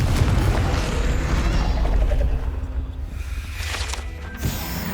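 A fiery Confringo spell explodes in Hogwarts Legacy, a deep booming blast that rumbles for a couple of seconds before fading into quieter game ambience.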